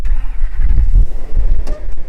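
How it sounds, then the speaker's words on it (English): V10 engine in a Ford service truck cranking and firing up close by, a short burst of rough low rumble settling into idle, with wind buffeting the microphone. "Let's let these people listen to this beautiful V10."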